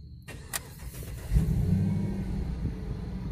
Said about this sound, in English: Let's see if this thing is going to start.